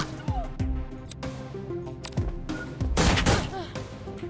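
Gunfire from the John Wick Hex video game, with several sharp shots and thuds scattered across a busy mix, including a dense burst near the end, under a man's speech.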